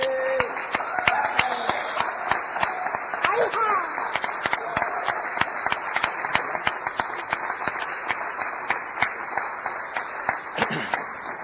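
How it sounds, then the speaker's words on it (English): An audience at a lecture applauds a speaker being introduced, continuous crowd clapping with sharp individual claps standing out, moderately loud and steady, with some voices and murmurs mixed in. "Can we give him a round of applause?"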